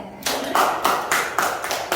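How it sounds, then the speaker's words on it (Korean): Six or so loud, close hand claps land in a slow, steady rhythm, each a sharp burst with a short tail. "박수 한번 쳐봐라."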